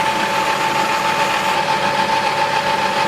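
A belt grinder runs steadily with an A100 Trizact belt, about 180 grit, used to sand a pen, giving a loud continuous whirring hum with a fixed tonal whine and no pauses.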